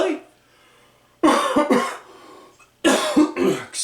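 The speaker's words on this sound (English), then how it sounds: "I don't mean to keep coughing like this." Two separate bursts of harsh, close coughing, each a quick cluster of hacks, separated by a quiet pause with only faint background hum.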